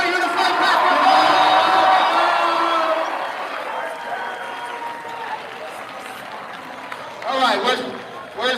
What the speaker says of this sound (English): Make some noise for Unified Basketball